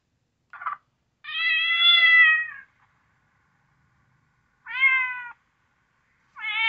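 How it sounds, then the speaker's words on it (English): Electronic bobcat distress cries play from a Western Rivers Mantis Pro 100 game caller: a short squeak, then drawn-out wailing yowls repeated after long silent gaps, clear and fairly loud. "It's got cat feline, okay, bobcat distress."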